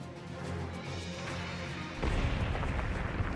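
A detonated rock slide explodes in the Valkyria Chronicles video game, a sudden heavy rumbling crash that follows a steady low hum and keeps roaring to the end.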